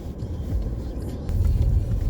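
A car driving, heard from inside as a steady low engine and road rumble that swells slightly louder toward the end, with no talk.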